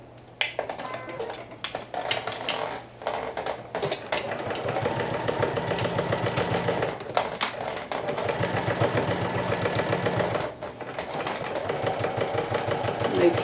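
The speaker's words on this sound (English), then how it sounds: "now we're going to stitch that with a 1/4 of an inch seam allowance" A sewing machine stitches a quarter-inch seam on a fabric bucket hat in close, rapid mechanical runs, stopping briefly between bursts.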